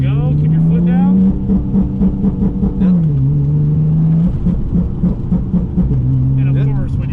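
A Nissan 370Z NISMO engine revs hard during flat foot shifting, with a strong steady engine tone that dips and climbs between shifts, loud and close, while a person talks over it.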